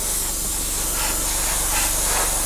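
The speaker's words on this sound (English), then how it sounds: "I'm spraying it nice and misty, all over, nice and quick" An airbrush sprays a fine, misty first coat of paint all over a Tamiya 1/48 scale Supermarine Spitfire Mk.I model, making a steady, unbroken close hiss throughout.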